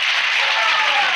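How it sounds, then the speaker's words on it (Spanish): A live audience at a huaso comedy and folk music show in Rancagua claps in a brief, dense burst of applause, close and fairly loud. "¡Se van a aplaudir!"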